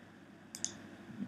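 A mouse click on a save button: a quick pair of faint, sharp clicks close together against a quiet room hum.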